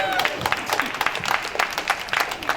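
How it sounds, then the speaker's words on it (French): A comedy festival crowd in Lomé applauds during a stand-up routine, with brisk, fairly loud clapping mixed with crowd murmur and some voices. "Applaudissez pour le prophète Moïse."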